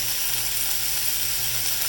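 Garlic hits onions already softening in a hot pan, and a steady dense sizzle of frying runs unbroken and close throughout with no voices.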